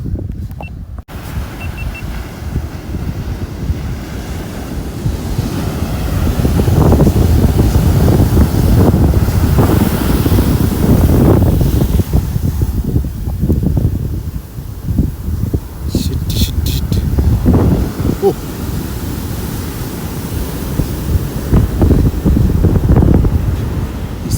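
Heavy sea surf at Poovar Island, Kerala, rolls and crashes continuously, loud and close, with strong wind buffeting the microphone throughout.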